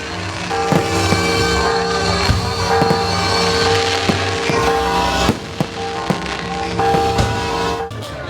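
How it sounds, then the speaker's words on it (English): Fireworks bang and crackle continuously over a dense roar beside a cathedral in Mazatlán, Mexico, with sharp booms punctuating the scene and a brief lull near the end. "Then, a terrific fireworks display starts next to the cathedral."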